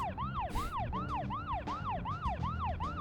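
A police siren from the video game Deadly Premonition wails in fast, regular up-and-down sweeps, about seven cycles, loud and close over a low engine rumble.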